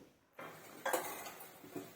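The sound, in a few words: lid put on a clay cooking pot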